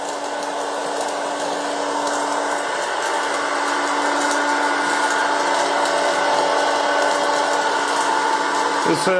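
A multi snacks maker air fryer runs while popping popcorn. It gives a steady, loud whirring drone of blown hot air that holds close and unbroken for the whole stretch, with no clear pops standing out.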